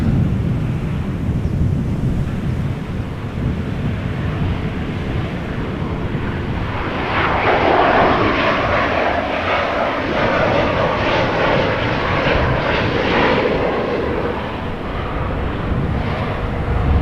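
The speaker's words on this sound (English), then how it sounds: "KLM arriving from Vienna." A KLM airliner arriving from Vienna at Amsterdam Schiphol Airport passes with a loud, steady jet roar that swells and rumbles with wind buffeting for the whole stretch, no voices over it.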